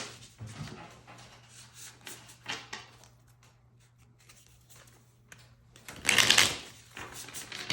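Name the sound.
shuffling tarot advice cards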